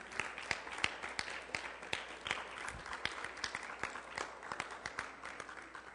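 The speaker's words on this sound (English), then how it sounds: "Clap your hands and tell him thank you then." Church congregation clapping hands during a service, many hands in a quick, fairly even rhythm with sharp individual claps standing out, moderately distant and steady for several seconds with little talk.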